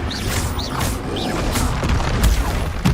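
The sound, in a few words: Confringo blasting spell explosion in video game Dark and Darker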